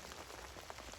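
Heavy spring downpour drums on a budget tent and camera, a dense, steady hiss of close raindrop impacts with no voices.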